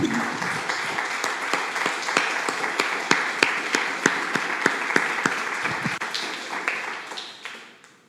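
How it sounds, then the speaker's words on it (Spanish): Church congregation claps during a Spanish-language sermon. Scattered individual claps ring out clearly over a moderate wash of applause, which gradually fades out over the last couple of seconds. "Dele un aplauso al Señor"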